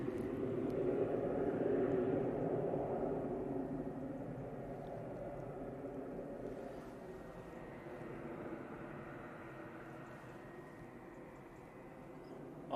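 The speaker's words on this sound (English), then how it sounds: "it's the first landing in really good light with a decent heavy in it" A heavy long-haul airliner lands at Manchester Airport, its jet engines making a broad, steady roar that gradually fades over several seconds, heard from nearby outdoors with no talking.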